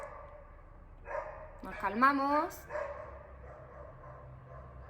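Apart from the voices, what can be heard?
neighbours' dogs barking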